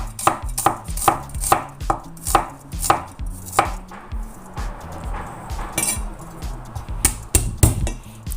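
Watercress being shredded for a sautéed vegetable dish with shallots and garlic: a steady run of sharp, close chopping strikes on a board, roughly two per second, with light clinks between them and no talk.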